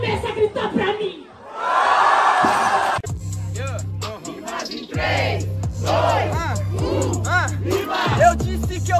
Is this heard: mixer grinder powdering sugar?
no